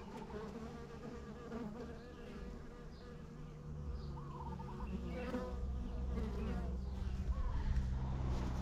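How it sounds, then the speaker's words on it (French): Honeybees from hive colonies hum in a dense, continuous buzz that grows louder and closer toward the end, with faint voices murmuring in the background. "Clément, tes abeilles, hein, regarde, regarde, je m'approche, hein."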